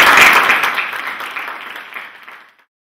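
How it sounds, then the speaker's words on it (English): A short burst of audience applause in a hall, loud at first and then fading away over about two and a half seconds. "Another round of applause, please,"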